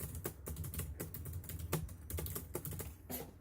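Typing on a computer keyboard, continuous quick key clicks in a steady irregular patter, close and fairly quiet, with no voice.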